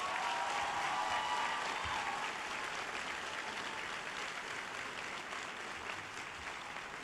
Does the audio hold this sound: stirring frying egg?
no